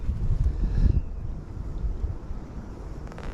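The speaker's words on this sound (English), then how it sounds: "Now it's really windy" Strong wind buffeting a microphone on the bank of the River Thames during a winter fishing match, a heavy low rumbling roar surging in gusts and easing slightly, with no talk.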